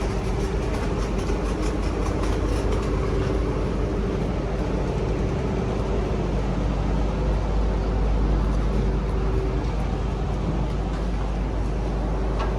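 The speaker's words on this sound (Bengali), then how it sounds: "আমাদের স্পিড বোট চলে আসছে, এখন স্পিড বোটে উঠবো।" A speedboat approaching a jetty on the way to Chera Dip, a steady loud engine drone with a low rumble and a sustained tone running throughout, no voices.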